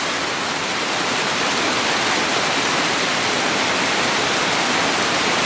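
Evening rain falls in a steady, dense hiss that fills the scene evenly and unbroken, with no voices.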